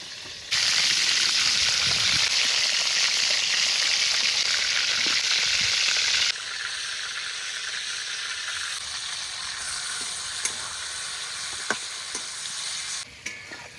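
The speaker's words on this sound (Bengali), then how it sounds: "শঙ্কর মাছ না ভেজেও রান্না করা যায়, কিন্তু আমি একটু হালকা করে ভেজে নিলাম।" Stingray fish pieces lightly frying in oil, a loud, dense close sizzle that drops to a softer, steady frying hiss partway through, with a few faint clicks.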